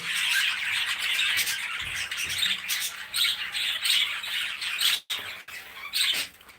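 Cockatiels, including young chicks, squawking and screeching in a close, dense chorus of harsh repeated calls that carries on throughout with short dips.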